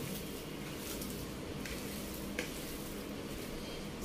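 Chicken malai kebab mixture with cooking oil stirred in a bowl, heard as a continuous wet squishing and scraping texture, close and even, with one brief sharper tap partway through.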